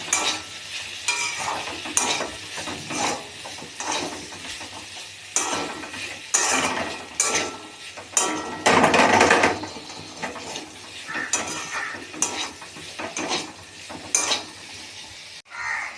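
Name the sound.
stirring frying vegetables with ginger in pan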